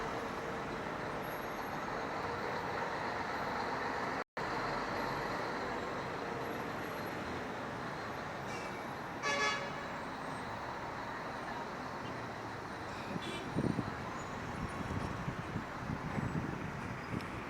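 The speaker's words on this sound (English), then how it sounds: "Look at the traffic on Mombasa Road." Steady, distant road traffic rumbles along Mombasa Road in Nairobi near expressway construction, with trucks and buses passing and a few faint brief tones rising above the constant hum.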